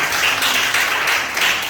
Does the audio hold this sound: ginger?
no